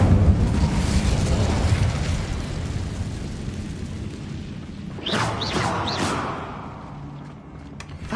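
Incendio fire spell from Hogwarts Legacy erupting in a loud, rumbling fiery blast that roars steadily, with a few sharp crackling bursts near the end before fading slightly.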